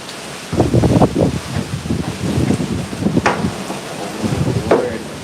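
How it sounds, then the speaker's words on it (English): Hurricane Melissa lashes Spanish Town, Jamaica, with gusting wind and driving rain, loud irregular buffeting bursts close to the microphone. "We have crazy wind and the rain gusts right now."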